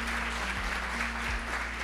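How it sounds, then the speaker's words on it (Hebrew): An audience applauds during a rabbi's religious talk. The clapping is moderate and continuous, sitting over a low steady hum from the hall or the amplification. "זה כפיים לקדוש ברוך הוא, חברים"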